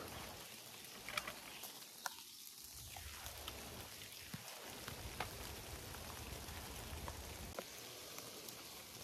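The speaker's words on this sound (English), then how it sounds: "It is full on raining now." Steady, dense rain pours down throughout, a constant broadband wash with occasional sharper drop impacts, fairly loud and close.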